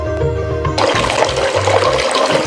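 Water gushes from a tap into a pitcher in a cartoon scene, a loud splashing rush that starts abruptly after a short musical lead-in and continues with low tones beneath it.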